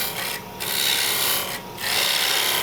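Wood being cut into a dovetail tenon with a specially ground bedan lathe tool, a loud continuous rasping hiss broken by two short dips as the tool lifts, with no talking.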